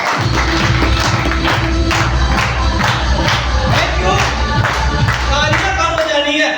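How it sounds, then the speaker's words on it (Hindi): Dense, sustained clapping from a large audience at a SafeShop business gathering, with crowd noise and a few voices mixed in, steady and loud throughout. "बजाओ ताली जबरदस्त।"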